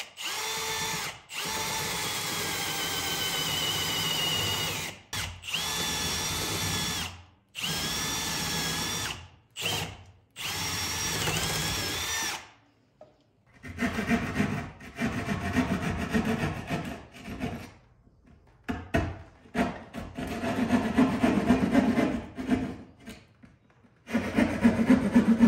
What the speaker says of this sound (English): We are gonna drill through the framing over here